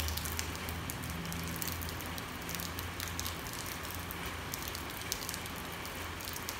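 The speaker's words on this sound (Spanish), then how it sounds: "Voy a dejarles un momento para que puedan escuchar bien cómo se escucha la lluvia." Steady rain falling at dawn in San Miguel, a dense, continuous patter of drops on surfaces with a faint low hum beneath, no voices.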